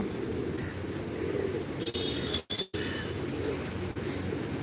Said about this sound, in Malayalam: അപ്പോൾ എൻ്റെ അടുത്തേക്ക് രണ്ട് മൂന്ന് പ്രാവുകൾ വന്നിട്ടുണ്ട്